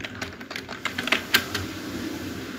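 Keyboard typing while entering a command into a Cisco router: a short burst of sharp, closely spaced key clicks, moderately loud and near, with no talk over them.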